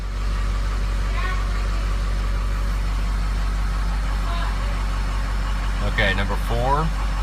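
A 550 truck engine idles steadily with a low, constant rumble and injector ticking, while oil leaks from the engine. Voices speak briefly over the engine near the end.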